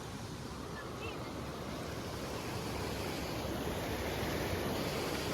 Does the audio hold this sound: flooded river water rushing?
yes